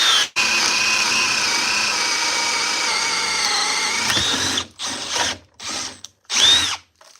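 A Milwaukee M12 sub compact drill with a large battery drives a 5/8-inch spade bit through a pressure-treated 4x4 in one loud, continuous whine lasting about four seconds, then gives several short bursts as it stops and restarts.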